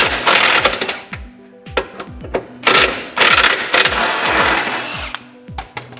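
A wrench works a long bolt free from the front of a traction link on an MK3 Supra's suspension, sounding as sharp metallic clicks and ratcheting bursts with brief pauses between, close and fairly loud.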